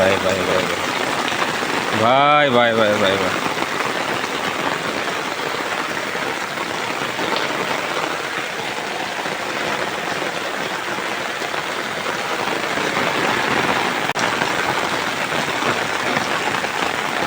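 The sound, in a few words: heavy rain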